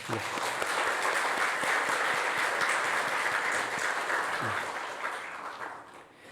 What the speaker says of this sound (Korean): 잠시 일어나 주시면 우리 박수로 환영해 드리겠습니다.